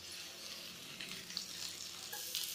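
Potatoes fry in a pan over a medium flame while fresh coriander is mixed in, giving a soft, steady sizzle with faint scraping from the stirring, fairly quiet and without talk.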